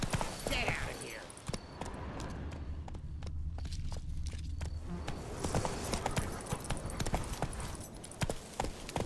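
Horse hooves clip-clop steadily on the ground while riding near Vizima in The Witcher 3, a continuous galloping rhythm over the whole stretch with game sounds and voice lines mixed in.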